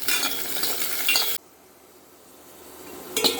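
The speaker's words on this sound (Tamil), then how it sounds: "பாத்திரத்தில் நல்லெண்ணெய் ஊற்றி வெள்ளைப்பூடை போட்டு நல்லா வதக்கணும்." Garlic frying in sesame oil in a pan, a loud close sizzle with stirring scrapes and utensil clinks that cuts off abruptly, a quiet stretch following before the sizzle briefly returns at the end.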